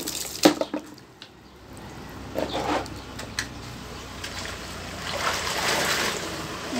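Water collects for the third rinse of a hand-washed ring grommet curtain: a steady splashing pour runs throughout, with a few sharp knocks at the start and a fuller surge toward the end.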